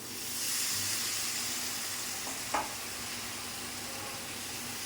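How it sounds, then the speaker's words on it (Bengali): Masala being sautéed in a pan with a little water, a soft steady sizzle and hiss with a single brief scrape or clatter midway, fairly quiet and close. "ভালো করে মশলাটা কষিয়ে নেব"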